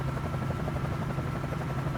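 Bell 47J helicopter in Microsoft Flight Simulator lifting off, its rotor beating in a steady rapid chop with a loud, continuous engine hum close by.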